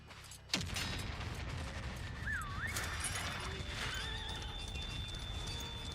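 In the Western video game Far Far West, a sharp hit gives way to a horse's loud neigh and galloping hooves over a busy game soundscape, with a wavering whinny sliding up and down mid-clip.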